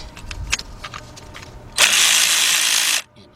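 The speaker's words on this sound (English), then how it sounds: "Get our ratchet." A power tool whirs loudly for about a second while a spark plug is loosened on a 2004 Ford Expedition with the 4.6 engine, after a few clicks and soft handling noises.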